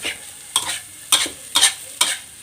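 Rice stir-fried with fermented fish sauce and fried dried fish, a low sizzle punctuated by five sharp spatula scrapes against the pan, close and crisp, no speech.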